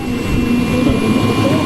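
A black Mi-38 VIP transport helicopter's engine gives off a loud, steady turbine whine with a constant high tone over a low rumble, close and unbroken for the whole moment.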